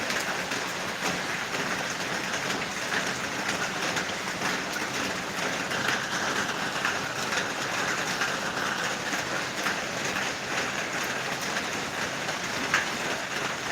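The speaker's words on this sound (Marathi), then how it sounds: "मित्रांनो मोठाच्या मोठा पाऊस आला आहे" Heavy rain falling in Kerala makes a loud, steady, unbroken hiss that holds at the same level throughout, with no voices.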